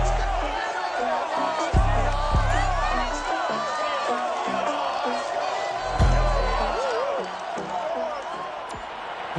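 Roaring stadium crowd in the Madden NFL 22 football video game as the Seahawks are introduced, a dense continuous cheer with whoops and swells, while a commentator's voice talks over it.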